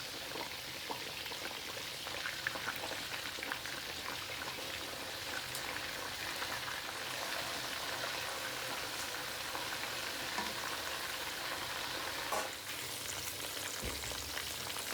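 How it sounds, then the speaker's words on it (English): Marinated chicken deep frying in hot oil, a steady dense sizzle and crackle that runs unbroken, with a few sharper pops and spits near the end. "that's been frying away for about 4 minutes or so"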